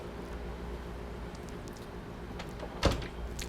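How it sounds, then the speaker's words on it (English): A MICOM SW800 swing door operator closes the door: a quiet motor hum and soft whirring over steady background noise, ending in a single distinct thud as it shuts, with no talk. "And now the door is closing."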